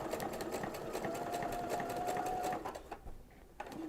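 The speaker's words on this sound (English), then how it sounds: "And then you can sew curves." A sewing machine fitted with a fringe looper foot stitches curves in a steady, close mechanical whir that eases off near the end.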